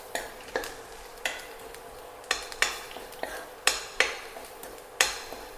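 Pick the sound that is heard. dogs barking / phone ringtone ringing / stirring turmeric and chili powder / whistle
stirring turmeric and chili powder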